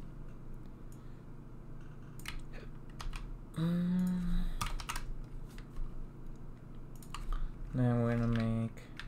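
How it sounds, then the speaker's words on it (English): Computer keyboard keys clack in quick irregular bursts, close and fairly quiet, with a couple of short tonal electronic sounds standing out between the taps. "in coding, there's a lot of typing"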